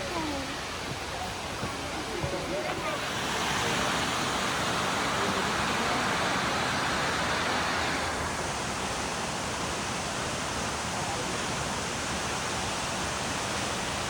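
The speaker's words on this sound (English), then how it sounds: "Try to follow the water as it falls." Water tumbles steadily over a woodland waterfall near big trees, a dense, constant rushing roar that swells louder a few seconds in and holds, close by, with no voices over it.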